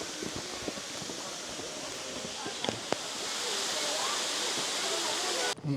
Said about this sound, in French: Il y a une cascade tout en haut.